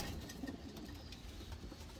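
Racing pigeons bred for 2021 coo softly and faintly in a loft, the low murmuring calls running steadily over background noise.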